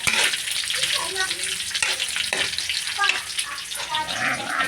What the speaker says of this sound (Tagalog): Ginisang pichay. May kaunting taba.